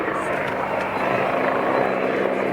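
A military helicopter at an air show drones steadily with a dense, throbbing rotor roar, loud and close, holding constant throughout.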